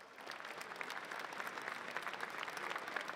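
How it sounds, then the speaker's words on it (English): Scattered, polite golf clap from an esports tournament audience in Cluj-Napoca, a steady patter of light handclaps lasting throughout at moderate distance, with no talk over it. "A golf clap from Cluj Napoca."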